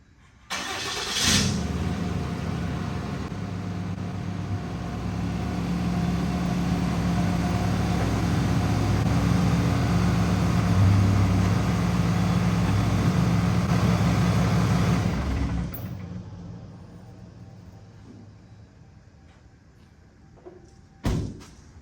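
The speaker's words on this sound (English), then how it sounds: "Gonna get the truck pulled in here and go from there." A fourth-generation pickup truck starts and its engine rumbles steadily close by as it pulls into a garage, then shuts off, followed by quiet and a final sharp thud.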